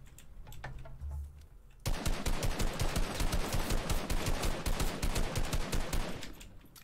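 Rapid automatic gunfire in Fortnite erupts after a quieter opening, a dense, loud, steady string of shots lasting several seconds before tapering off near the end.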